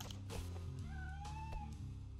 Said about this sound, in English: like there's a cat in the room